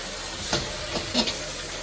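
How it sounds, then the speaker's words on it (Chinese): Fish slid into hot red chili oil in a wok, giving a steady hiss with a few brief crackling bursts as the pieces land, close and moderately loud, with no voices. "现在呢把鱼下锅"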